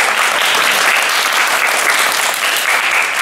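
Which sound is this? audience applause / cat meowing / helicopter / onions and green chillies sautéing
audience applause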